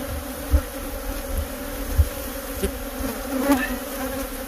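Bees from an unusually large hive living inside an RV buzz steadily and fairly loudly, with a dense droning hum and a few brief louder passes close by.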